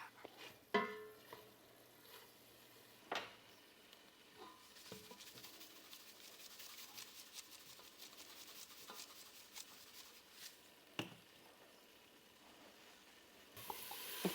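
Stew meat cooks in a pan with a faint, low sizzle and soft scraping and rubbing from stirring, punctuated by occasional louder clanks, and the hiss swells near the end.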